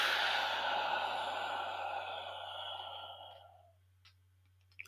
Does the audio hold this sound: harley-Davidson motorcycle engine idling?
no